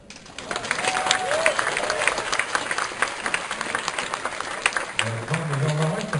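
Applause fills a hall at a Turība university graduation ceremony, dense clapping from a crowd that keeps up steadily, with a voice speaking briefly near the end.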